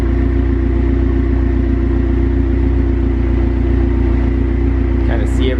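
A Dodge SRT4 engine runs close up at a steady, loud idle with a low rumble and a constant droning tone, and a brief higher whine rises near the end.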